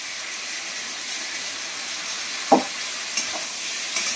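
Egg and potato curry frying in oil in a pan, a soft steady sizzle with a few sharp clinks and knocks of a utensil in the second half, and no talk.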